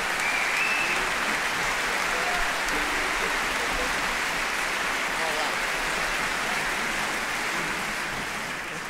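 An audience at a swinging Christmas concert with orchestra and choir applauds warmly, dense sustained clapping filling the whole stretch and easing slightly at the end.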